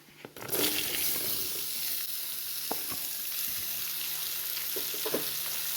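Radish slices tip into hot spiced oil tempering with red chilli powder, setting off a loud, steady sizzle with a few scraping stirs, close and alone, no voices.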